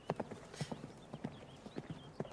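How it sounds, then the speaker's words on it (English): Horses' hooves clip-clop in a dramatized Western scene, with a series of sharp, fairly even knocks approaching at moderate distance and no voices. "Horses."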